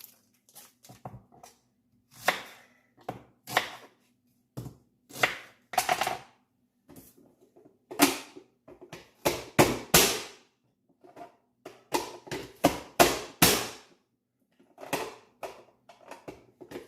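An onion is chopped with a knife on a cutting board: close, sharp chopping strokes come in quick rhythmic bursts separated by short pauses.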